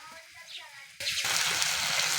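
Onion and tomato hit a hot pan halfway through, and a sudden bright sizzle bursts in and keeps crackling steadily after a quieter stretch with a faint voice.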